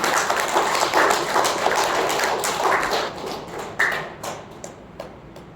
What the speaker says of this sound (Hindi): तो महावीर स्वामी के लिए जोरदार तालियां होनी चाहिए